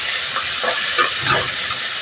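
Onions and green chillies frying in hot oil in a pan for a mutton curry, giving a steady, close, broadband sizzle with soft stirring bumps and no talk.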